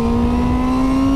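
A Honda Fireblade SP superbike engine revs hard at full throttle in second gear, giving a steady, loud, high-pitched drone with a strong buzzing tone and no talk over it.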